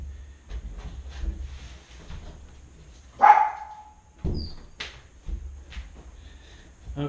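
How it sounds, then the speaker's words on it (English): A dog barks a few times in separate sharp bursts, moderately close, with quiet room background between the barks and no talk. "So my dog's barking at me."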